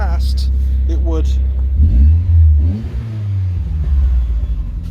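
A Lotus Elan SE M100 engine revs hard as the throttle is blipped, with a deep rising and falling exhaust rumble that swells twice mid-clip after a stretch of steadier idle-like drone.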